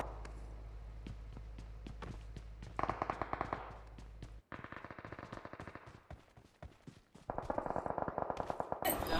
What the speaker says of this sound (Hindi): देखा कि सामने सिटी से फायरिंग हो रही थी